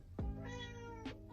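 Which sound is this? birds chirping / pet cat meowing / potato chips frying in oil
pet cat meowing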